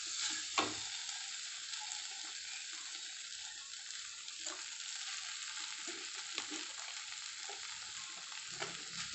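Hakka noodles and vegetables tossed and stirred in a frying pan give a steady sizzle with scraping stir strokes, close and fairly soft, with no talk.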